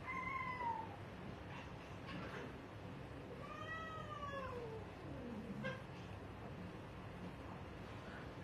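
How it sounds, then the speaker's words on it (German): An old female cat meows several times indoors at home during a storm, with drawn-out, gliding cries spaced a few seconds apart that are faint against a steady low background rumble. "Die kleine Jutta miaut mich an"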